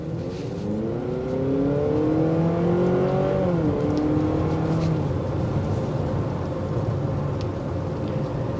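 A 2023 Honda CR-V Sport Hybrid with its engine engaged while driving, heard from inside the cabin as a steady muffled hum with a rising then settling pitch, continuous and moderately loud.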